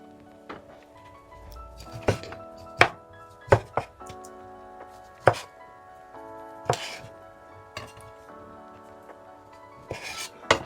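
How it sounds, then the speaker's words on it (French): A knife chops a kiwi on a cutting board in a home kitchen, sharp irregular thunks spaced across the clip, close and clear with quiet gaps between cuts. "Je vais découper un petit kiwi là."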